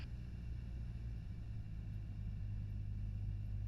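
A light aircraft engine throttled back to 1,500 RPM with carb heat on, heard as a steady, loud, low droning rumble that continues without a break and with no talk over it.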